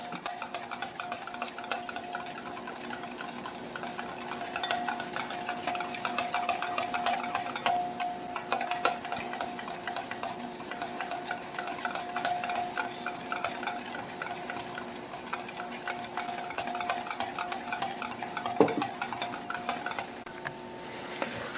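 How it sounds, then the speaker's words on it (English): Peanut oil is stirred slowly into a homemade garlic aioli, a continuous soft scraping and clinking of a utensil against a bowl that keeps up an even rhythm throughout, with no voices. "Again, slowly and stirring constantly."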